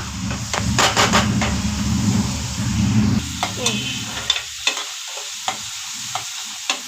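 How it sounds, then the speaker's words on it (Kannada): Onions fry in a pan with a steady sizzle while a utensil stirs and scrapes, bringing sharp clanks and taps; the frying hiss is dense at first, then thins into sparse stirring knocks. "ನೋಡಿ ಇದು ಈರುಳ್ಳಿ ಇನ್ನೂ ಫ್ರೈ ಆಗಬೇಕು"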